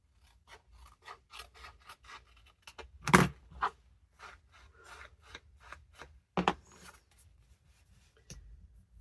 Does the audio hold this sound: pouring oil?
no